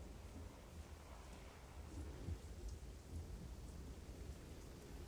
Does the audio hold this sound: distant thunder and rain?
yes